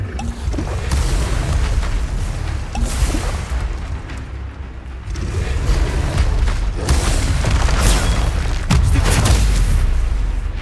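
Explosive blasts of the Confringo spell in Hogwarts Legacy: deep, rumbling booms that swell and roll in successive waves, loud and close, with crackling bursts layered on top.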